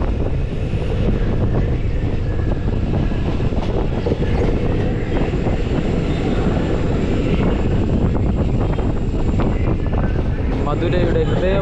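The Amrita Express train heading toward Madurai rumbles steadily and loudly, with wind buffeting the microphone throughout the ride.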